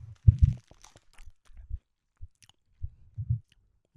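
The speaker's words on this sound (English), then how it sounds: "Just like pure chewing into this now" Chewing on a very sweet food that contains glucose-fructose syrup, with several wet, crunchy bites in uneven bursts close to the mic and quiet gaps between them, without talk.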